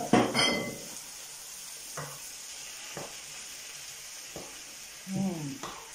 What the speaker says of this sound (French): La tomate, on remue.